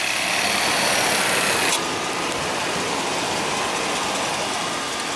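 An original unmodified 5.7 liter V8 in a 1998 Chevrolet two-door Tahoe 4x4 idles smoothly with the hood open, a steady close hum with a brief higher hiss that fades after the first couple of seconds.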